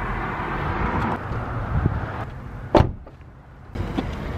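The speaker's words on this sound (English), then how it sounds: "lock and unlock the door a few times to make sure the new pin isn't hung up on anything" A Mustang door lock is worked by hand, giving a sharp close clunk midway, with fainter clicks and shuffling handling noise around it.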